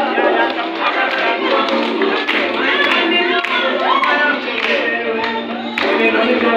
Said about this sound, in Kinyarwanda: ndabasaba ngo mushyiremo amashyi